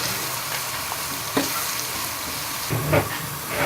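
Onions sautéed with salt, red chili powder, black pepper and turmeric sizzle steadily in a frying pan for a lentil dish, with a few louder scraping stirs of the spoon standing out from the constant frying hiss.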